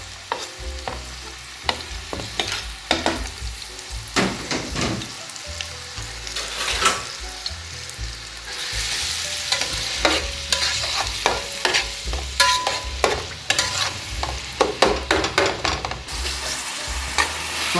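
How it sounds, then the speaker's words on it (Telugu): About 400 grams of salted onions fry in a pan, giving a loud, steady sizzle broken by frequent clattering stirs and scrapes close up, with no voices. "ఉల్లిపాయలు వేసేస్తున్నాను చూడండి."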